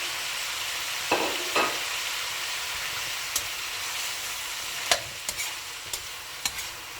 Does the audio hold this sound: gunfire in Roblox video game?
no